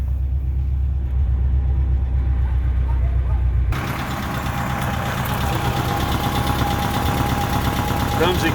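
A Saab 96 deluxe with a V4 engine idles nearby, a steady low rumble that turns brighter and more open partway through, as if the hood or microphone position changes, with no speech.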